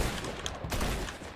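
Rapid gunfire from bots in the Fortnite video game, a quick burst of overlapping shots within a busy game soundscape.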